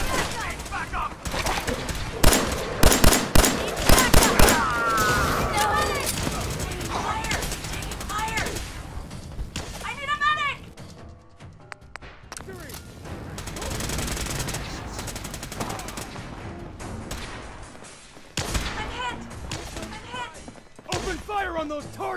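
Heavy gunfire in the video game Fallout 4, with dense overlapping bursts of automatic fire and scattered shots in a chaotic battle, mixed with shouted voices throughout.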